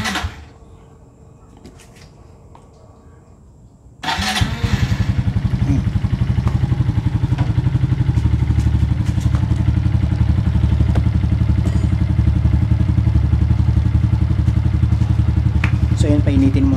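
A Suzuki Raider J FI 115 motorcycle, freshly tuned after a valve clearance adjustment, is quiet at first with a few clicks, then its engine catches at about four seconds and settles into a steady, loud, close idle that runs to the end.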